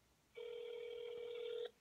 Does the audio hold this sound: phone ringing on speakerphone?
yes